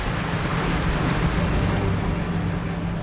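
Rough sea waves churn and wash around a yellow croaker fishing boat at dawn, a continuous loud roar of surf and wind with engine rumble beneath, steady throughout and no voices.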